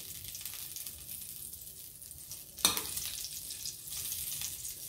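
A hotdog frying in a pan sizzles steadily at low volume, with one brief sharp clatter partway through and no voices.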